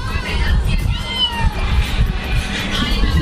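A cat meows repeatedly near a family home while an adult talks over it and a voice joins in. The meows come in short, rising calls through a steady murmur of household voices.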